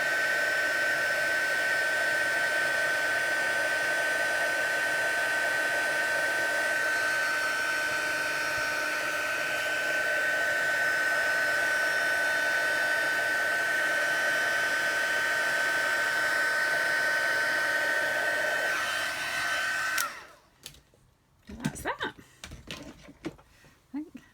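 A heat gun melting embossing powder runs as a steady, loud whirring blower hum with a tonal whine for about twenty seconds, then cuts off, leaving handling clatter and light knocks.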